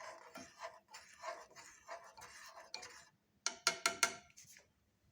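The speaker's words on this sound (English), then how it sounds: "Now at the end add a half teaspoon of honey in it and mix well." A spoon stirs honey into cardamom tea in a cup or pan, a run of soft scraping strokes followed by several sharp, close clinks of metal against the vessel near the end.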